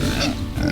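A pig on a farm grunts and oinks in short, close bursts over a steady outdoor background, loud and continuous for under a second.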